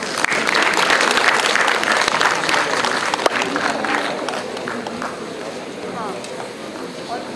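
A conference audience at an international gathering gives a huge round of applause, loud dense clapping for several seconds that gradually thins, with faint voices beneath.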